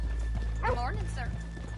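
Horses in the video game Red Dead Redemption 2 shuffle and clop nearby while a horse gives a short whinny, with speech running over the top.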